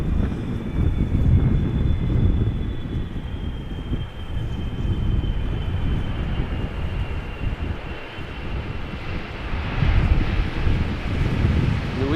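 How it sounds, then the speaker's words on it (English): A Boeing 777-300ER airliner arriving at Amsterdam Schiphol in crosswind, its engines a steady broad roar with wind buffeting the microphone, swelling slightly near the end, with no voices. "this big behemoth is a 777-300 ER arriving from Willemstad"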